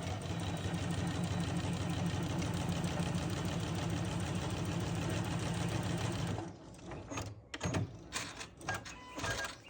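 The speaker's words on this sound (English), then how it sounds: "We're gonna sew a 1/4 inch all the way down." A sewing machine runs a quarter-inch seam on a spool quilt block, humming loudly and continuously for about six seconds before stopping, followed by a few light handling noises.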